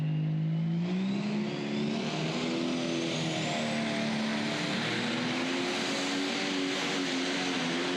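A Pro Stock tractor hauls a sled at a Goshen, Indiana pulling event, its engine roaring loud and continuous with rising and falling harmonic pitch as it strains down the track, no talk over it.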